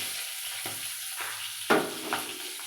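Spices and torn green chillies for a vegetarian potato and paneer dish fry in a pan, with a soft continuous sizzle broken by a few scraping stirs close by.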